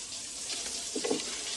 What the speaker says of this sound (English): She's in the shower.